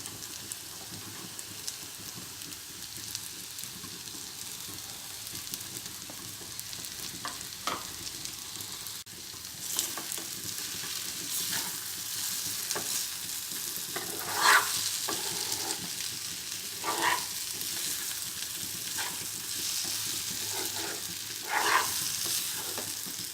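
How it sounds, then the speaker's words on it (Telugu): Fried eggs are stirred in a sizzling pepper masala, a soft continuous frying hiss broken by scraping stirring strokes that come every second or so, heard close with no one speaking. "చివరగా ఇందులో ఫ్రై చేసుకున్న ఎగ్స్ వేసుకోవాలి."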